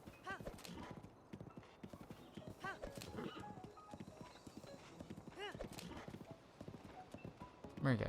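Galloping horse in the video game Breath of the Wild, steady clip-clop hoofbeats throughout with several high neighs and whinnies rising above, plus a louder burst near the end.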